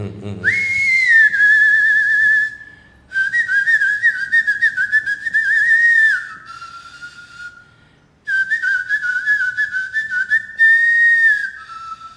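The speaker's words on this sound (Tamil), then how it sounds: "இந்த பாட்டோட துவக்கத்திலே பார்த்தீங்கன்னா ஒரு விசில் சவுண்டோட ஆரம்பிச்சிருப்பாங்க" A clear, bright whistled melody opens a Tamil film song from Paava Mannippu, carried in long sustained phrases separated by brief pauses, up close and with no voices.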